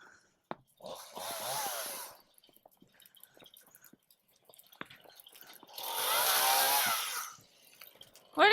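A chainsaw cuts limbs on a snowy Texas farm in two loud, close bursts of roughly a second or more each, separated by quiet stretches with faint drips and small knocks.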